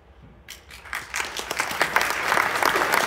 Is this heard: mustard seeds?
no